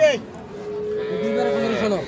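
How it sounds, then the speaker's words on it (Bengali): A dairy cow gives one long, loud, close moo lasting about two seconds at a cattle market in Ambari haat, Dinajpur, with a brief sound at the start and little else around it. "দুধের গাভী গরুগুলো ক্রয় বিক্রয় করা হচ্ছে"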